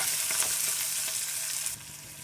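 Fenugreek leaves and dried chillies frying in a pan give off a steady bright sizzle with faint stirring scrapes, close and continuous, easing slightly near the end.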